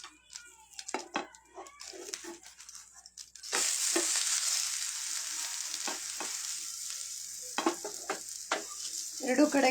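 Frying in ghee on a low flame starts with scattered soft taps and scrapes, then a steady sizzle surges in and carries on close by, with intermittent utensil clinks over it.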